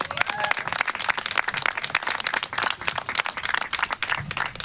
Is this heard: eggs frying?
no